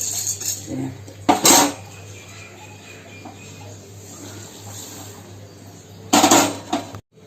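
Roasted gram and peanuts are stirred once in a pan, with two short metallic scraping clatters of the spoon against the pan and a quiet stretch between them.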